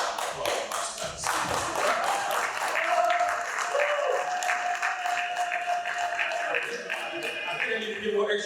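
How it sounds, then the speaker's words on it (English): Students in a conference panel audience clap in a lively burst that builds and carries on for several seconds, with a voice talking over the applause and a faint sustained tone partway through. "I think I didn't get a pretty good applause from my students."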